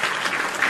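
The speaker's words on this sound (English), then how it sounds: "So round of applause for" A brief burst of applause on a live wrestling talk show, dense, bright clapping that stays loud and steady through the moment.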